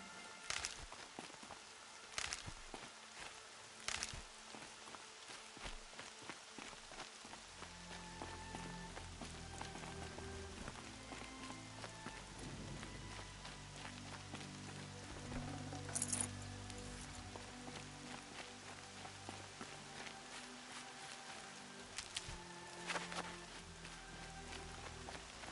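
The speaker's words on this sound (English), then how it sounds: "More rain. My boots will get damp." Rain falling in the video game Horizon Zero Dawn, a soft steady patter with scattered louder drops and occasional footsteps and clinks, quiet and continuous with low ambient tones underneath.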